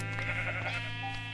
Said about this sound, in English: Okay, hello sheep. How are you today?